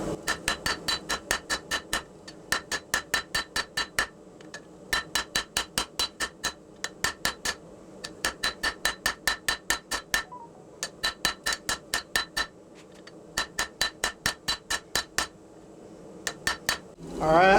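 Hand hammer forging a knife bolster from 1-inch-thick 5160 coil spring steel with a straight peen, ringing metallic blows in steady rapid bursts of about ten strikes, separated by short pauses, close and loud.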